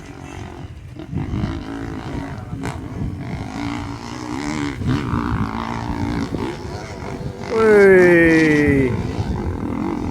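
KTM off-road trail motorcycle engine climbing a steep dirt hill, rising to a loud rev near the end over constant wind noise and general crowd sound, with people shouting and talking.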